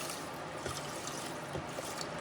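Water pouring into a pot holding long grain rice: a soft, continuous, fairly quiet trickle that holds steady throughout, with no voices.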